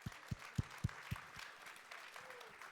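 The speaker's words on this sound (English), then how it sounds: "Round of applause." Audience applause at a World Food Day 2025 panel event on food and health, a brief burst of about six distinct claps that quickly fades into room murmur.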